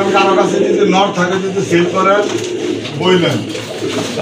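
Female pigeons, a pair of fancy breeds, coo repeatedly in soft rolling phrases close by, while someone talks over them throughout.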